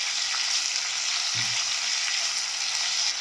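Chopped chillies mixed into hot tempering oil for a chilli pickle, giving a dense, even hiss of frying that holds steady throughout, close and fairly loud with one brief low knock of the stirring spoon.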